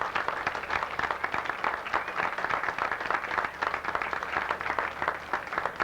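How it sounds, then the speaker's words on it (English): Steady, dense applause from a large crowd at the opening of a festival parade, close and continuous throughout with no speech over it. "I think you should give them a hearty round of applause"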